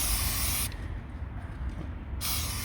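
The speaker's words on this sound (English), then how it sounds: "I'm gonna turn the wheel and just literally spray" Muc-Off chain lube sprayed onto a Honda motorcycle chain: one continuous close aerosol hiss lasting about a second and a half, alone without talk, set against steady background noise.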